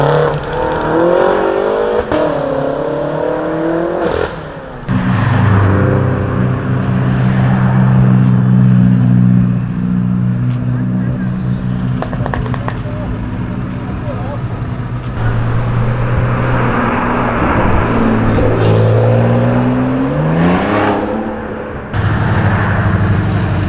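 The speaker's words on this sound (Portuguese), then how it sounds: "Dois carros gigantes tirando racha" Two big cars race side by side, one a Toyota Supra with a 2JZ engine, engines roaring loudly and continuously with rising revs and gear shifts, close and dominant, with people talking under the noise.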